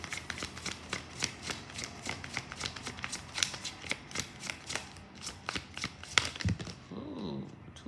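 Tarot cards being shuffled by hand: a quick, regular series of crisp riffling snaps, close and fairly quiet, ending with a softer shuffle and a brief murmur of voice.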